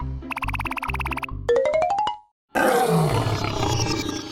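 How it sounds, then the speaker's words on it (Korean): Wolf in the Roblox game 99 Nights in the Forest, heard as a short burst of game tones and a rising chime followed by a loud, harsh roar-like growl that sustains to the end. "늑대잖아."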